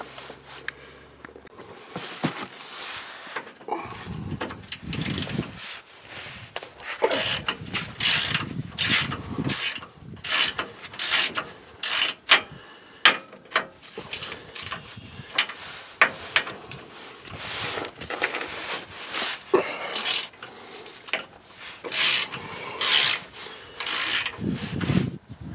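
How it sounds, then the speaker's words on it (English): Breaker bar and ratchet working stuck 17mm sway bar bushing bolts on a Nissan Titan, with repeated creaking ratchet clicks, metallic rubbing and clunks in irregular bursts, close and fairly loud with no talk. "So I started these with the breaker bar."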